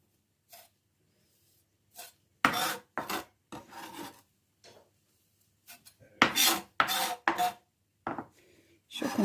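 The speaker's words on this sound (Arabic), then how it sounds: "كنحكوها مزيان بحال هكا، كنقردوها، كنديروها هنايا في هاد لابول" Food being rubbed against a grater into a bowl, several separate bursts of rasping strokes, some short and some longer, close and clear against an otherwise quiet kitchen.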